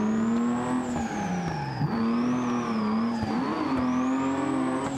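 Two simulated cars drifting in tandem in BeamNG multiplayer, engines holding a high sustained whine that dips and rises with throttle changes, with tire squeal and skidding layered beneath, loud and continuous without talk.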